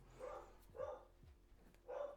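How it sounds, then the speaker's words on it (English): A dog barks at a child in a pram somewhere in the background, three faint, evenly spaced barks with quiet pauses between them and no voices over them. "Excuse the dog barking at a child in a pram."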